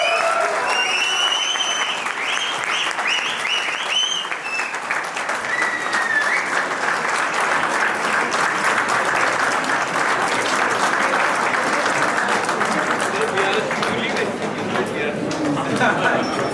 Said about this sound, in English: We can all just give him another round of applause.